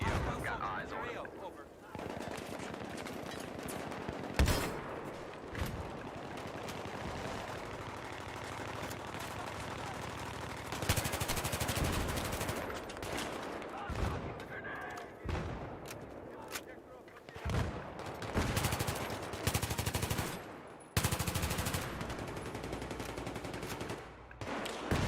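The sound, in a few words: machine gun fire in video game Battlefield 3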